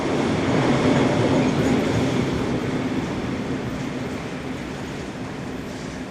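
Electric locomotive 1042-008 rumbles past a level crossing near Selzthal station in Austria, a loud steady roar of wheels and rail noise that eases slightly as it continues.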